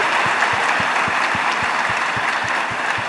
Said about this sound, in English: Can we have a big round of applause for all the participants for their enthusiasm?